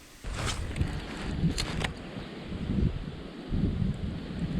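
Gusty wind buffets the microphone in rough, uneven bursts while walking into the wind, with rustling in the background and no voices.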